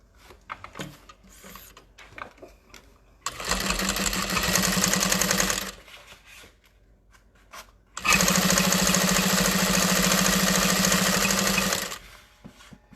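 Sewing machine stitching a tote bag seam with a 5 stitch length and Tech 70 thread, two loud steady whirring bursts of several seconds each, separated by quieter handling noise.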